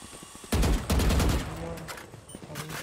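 Rapid bursts of Vandal rifle fire from a tactical shooter game, loud and close, with two sustained volleys and then scattered shots and game sounds as the firing tapers off.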